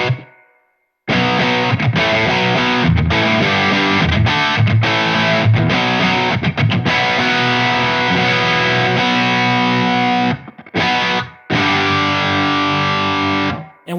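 Electric guitar played through a Wampler Pantheon overdrive pedal set to mid gain in soft-clipping mode, giving loud, sustained, thick chords and riffs after a brief quiet start, with a few short gaps near the end.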